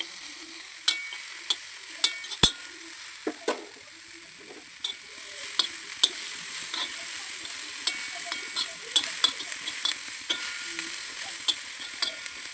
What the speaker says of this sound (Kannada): ಚೆನ್ನಾಗಿ ಸ್ವಲ್ಪ ಫ್ರೈ ಮಾಡ್ಕೊತೀನಿ ರೋಸ್ಟ್ ಆಗೋ ತನಕ